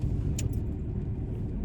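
A low, steady car engine rumble drones outside on a rainy English day, continuous and moderately loud, with a faint light jingle early on.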